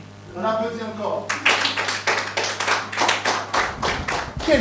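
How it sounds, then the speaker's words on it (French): An audience claps along in a sequence of bursts, loud rhythmic hand claps following a short stretch of talk, with voices continuing over the applause. "On applaudit encore."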